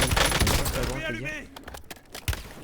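Rapid bursts of gunfire in the video game Warzone, crackling shots in a dense volley at first, then scattered reports, with a voice talking over part of it.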